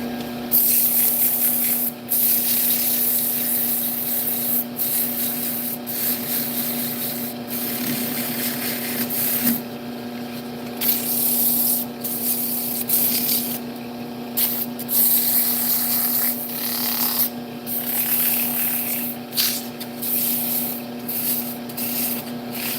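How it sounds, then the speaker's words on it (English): A turned wood piece is sanded on a lathe, producing a steady, loud rubbing hiss over the spinning machine's constant hum, with brief breaks as the paper lifts off. "Let's do a little bit of sanding."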